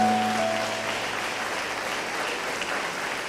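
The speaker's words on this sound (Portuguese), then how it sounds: "Um aplauso para o Senhor." A church congregation applauds during a sermon in a Portuguese-speaking service, a steady wash of many hands clapping that holds evenly throughout, with a brief sustained tone at the start.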